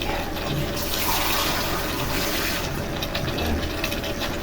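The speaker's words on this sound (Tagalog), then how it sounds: "Isang basong tubig ang nilalagay natin." Steady, continuous rush of a glass of water pouring into a cooking pot, fairly loud and close, with no voices.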